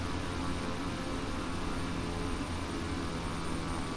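An IAI 201 Arava aircraft in flight in the Flight Simulator X game, a steady propeller engine drone mixed with broadband airflow noise that holds at a constant level the whole time.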